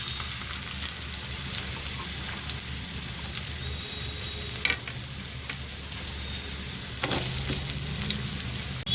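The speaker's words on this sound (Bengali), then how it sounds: "আলুগুলোকে ভেজে নেব।" Potatoes frying in hot oil for Bengali-style ghugni, a steady crackling sizzle that runs throughout with a few louder spatters and stirring clinks near the middle and end, no voices.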